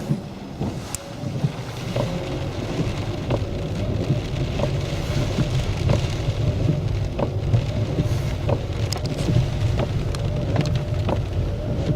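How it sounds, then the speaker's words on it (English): Steady rain patters down close by at a lake, a constant wash of drops with scattered louder taps on a hard surface. No one is speaking. "In the rain, of course."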